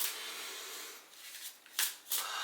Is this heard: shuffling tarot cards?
yes